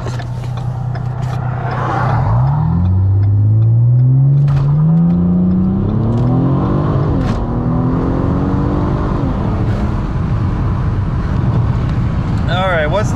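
A car launching hard on octane booster, its engine revving up through rising gears under sustained acceleration, loud and close with wind rushing over the microphone.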